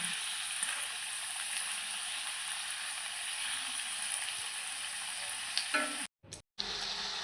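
Stuffed pointed gourd pakoras frying in hot oil make a dense, steady sizzle up close, with faint stirring and a brief near-silent gap near the end.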